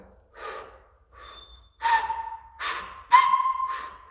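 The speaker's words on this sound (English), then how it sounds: "you'll eventually be able to whistle every time you put your finger in your mouth" A finger whistle made during a first try at articulated whistling comes in short, breathy bursts, some of them breaking into a thin, wavering whistle, with breaths between attempts.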